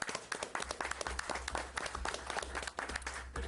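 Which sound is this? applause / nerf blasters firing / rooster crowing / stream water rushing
applause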